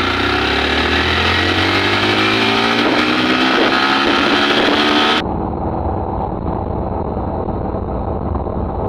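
A Yamaha FZ motorcycle engine pulls hard in second gear, its rising pitch loud and steady for several seconds, then the sound turns duller and more muffled as the ride continues.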